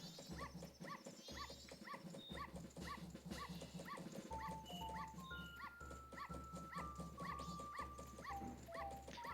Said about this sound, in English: Dog's yipping to the music.